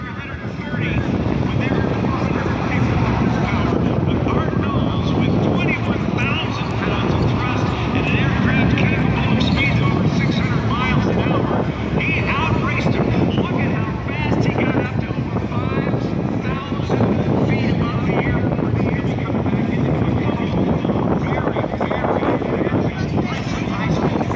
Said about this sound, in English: Just did a short field takeoff from runway 28 center, and he's heading out west.